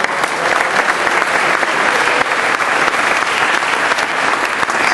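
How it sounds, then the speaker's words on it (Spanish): Loud, dense applause from a dinner audience welcoming the government subdelegate at a Pakistan solidarity dinner in Barcelona's Maritime Museum, steady and sustained for about five seconds. "Aplausos fuertes"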